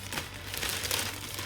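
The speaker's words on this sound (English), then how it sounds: "This is a rice plastic bag" Close, brief crinkling of a thin plastic rice bag being handled, a quick burst of rustles lasting about a second and a half.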